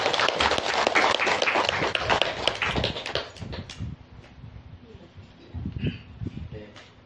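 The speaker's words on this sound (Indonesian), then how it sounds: "Kita tepuk tangan untuk kita." A crowd claps loudly for a few seconds at a prize-giving for Quran memorization, then the clapping thins out into scattered claps with voices murmuring.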